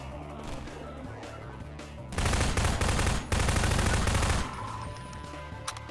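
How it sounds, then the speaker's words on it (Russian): Half-Life 2 gunfire with an underbarrel grenade launcher shot: rapid automatic bursts ripping in two loud stretches with a brief pause between, set against a background game soundscape. "вот тебе еще один подствольный выстрел"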